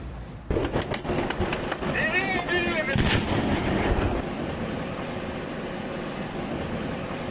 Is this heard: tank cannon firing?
yes